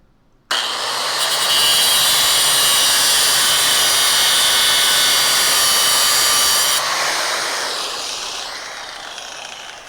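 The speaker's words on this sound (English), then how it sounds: "I'm going to take my cutoff wheel over here and I'm going to just put a V-cut into this piece" Cutoff wheel grinding a V-cut into a metal piece during a Charger restoration, a loud close high-pitched whine that starts abruptly and holds steady for several seconds before its pitch shifts and it winds down.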